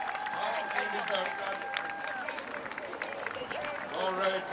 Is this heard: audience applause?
yes